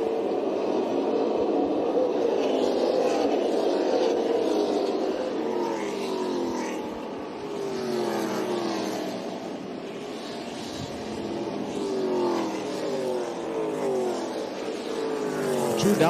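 Stock cars racing on a track during a Twin 100s race, a dense, continuous engine roar with cars sweeping past in overlapping waves, loud and steady.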